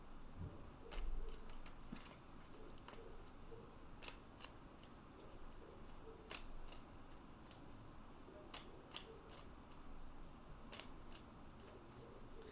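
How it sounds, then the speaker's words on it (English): Crisp, rapid riffles and soft slaps of tarot cards being shuffled repeat in uneven bursts, close up and quiet, over a faint background hum. "Every time I start shuffling"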